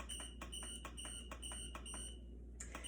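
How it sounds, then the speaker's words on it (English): A crock pot timer in a kitchen beeps in a quick run of short, bright electronic tones while being set, then pauses briefly before another beep, heard over a low steady hum. "I'm gonna put a timer on this."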